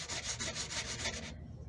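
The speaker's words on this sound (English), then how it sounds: "I'm just sanding the edge." Close, steady back-and-forth rubbing of sandpaper along the edge of a wooden lap desk, in even strokes that stop abruptly near the end.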